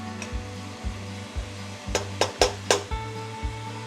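Ground beef fries in a pan with a gentle sizzle under a low hum, while a utensil scrapes and taps against the pan in a steady rhythm, with several sharper clinks in the middle.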